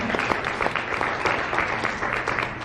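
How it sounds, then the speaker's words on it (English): Conference audience applause fills the room, dense even clapping at moderate loudness with faint voices underneath, sustained throughout. "Give them a round of applause again."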